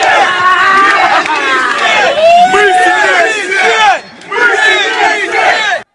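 Yenisei football fans pour into a Krasnoyarsk street at 3 a.m. after the match against Anzhi, a loud crowd roaring, whooping and chanting in ragged waves. A short lull breaks it before another burst of cheering that ends abruptly.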